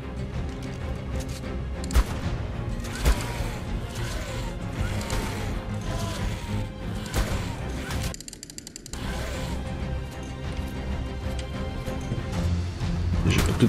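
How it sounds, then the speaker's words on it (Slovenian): Several loud shotgun blasts fired at a creature in ARK, sharp impacts at irregular intervals over a dense game soundscape with mechanical clanks, one marked burst near the middle. "Pa ga mogoče malo s shotgunom strelam."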